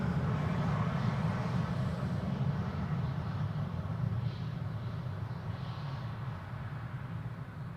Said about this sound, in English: Emirates 777-300 flying north of us from west to east.